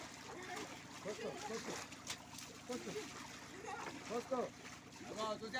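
Water splashes and pours over someone's head in a steady wash, with voices talking loudly over the splashing throughout.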